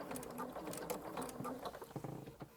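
A sewing machine fitted with a braiding foot stitches zigzag over elastic, its needle running in a fast, steady mechanical patter up close with no voices.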